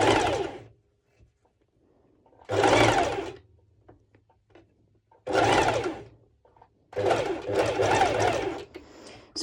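A sewing machine stitches along a bikini top's underwire in several short, loud bursts of rapid needle clatter, separated by pauses of near silence.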